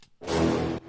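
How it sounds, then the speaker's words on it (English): A single strong, sustained brass note, bright and full, held steadily for under a second before cutting off. "And then this last one I have is just kind of like a really strong brass note."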